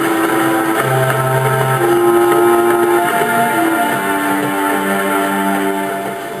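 A steam locomotive pulls away with a passenger train, its sustained whistle tones layered over a loud, continuous rumble of wheels and running gear, close and steady throughout.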